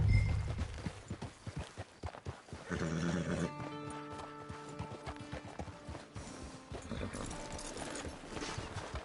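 Horse hooves clip-clop in a steady trotting rhythm inside a PlayStation 4 video game, close and clear over game music and ambient tones, with an occasional snort and no talking.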